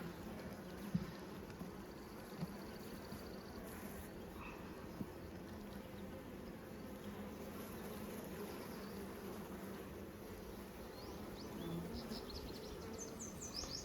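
Honeybees buzz steadily around an open split hive during a queen check, a soft continuous hum with occasional faint bird calls in the outdoor background.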